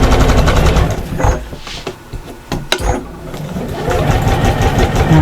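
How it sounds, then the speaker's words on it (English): Sewing machine running fast and loud up close as it stitches across a strap on a shopper bag, with a short slowdown and a few clicks in the middle before the continuous whir resumes. "You're stitching at about 1/8 of an inch in, all the way across, just because it's easy."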